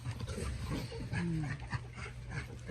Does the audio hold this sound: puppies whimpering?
yes